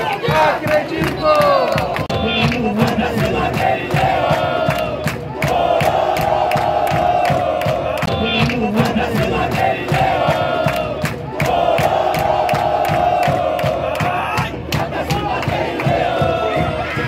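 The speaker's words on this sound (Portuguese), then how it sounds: "No momento que eu filmava a torcida aqui cantando" Nacional supporters in the stands chant in rhythmic unison during a Série D round-of-16 match against Bahia de Feira, a loud massed crowd song with sharp repeated accents and swelling phrases.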